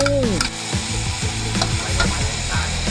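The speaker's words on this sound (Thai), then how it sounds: "วัตถุดิบของเราคือปลาไหลนั่นเองครับพี่น้องครับนี่ลงกระทะไปแล้ว" Eel frying in a hot pan, a dense steady sizzle with crackling spatters and stirring scrapes, loud and close throughout.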